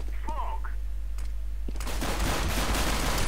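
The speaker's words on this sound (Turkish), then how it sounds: "Happy B tarafında odadaki Starix'i öldürüyor." Rapid bursts of gunfire from Counter-Strike: Global Offensive in a professional esports match fill the second half as a dense rattling clatter, following a quieter stretch with a voice heard early on.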